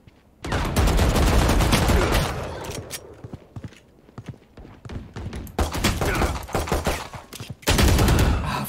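Suppressive gunfire in Valorant rattles out as loud, sustained bursts of rapid automatic shots. They break off into scattered single cracks, then surge back in with dense, close-range volleys.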